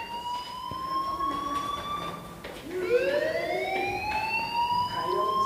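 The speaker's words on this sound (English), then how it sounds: "do you hear that fire alarm?" A video game fire alarm wails in rising and falling tones, repeating as sweeping siren-like whoops at moderate volume with a faint background hum.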